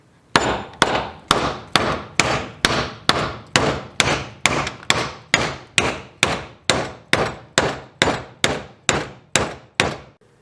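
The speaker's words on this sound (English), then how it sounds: "To knock out the old piece of helve, a small piece of wood that is thinner than the eye and a wooden mallet is all you need." A wooden mallet strikes a small piece of wood to drive the old helve out of an axe eye, about twenty sharp, evenly spaced knocks in a steady rhythm, close and alone.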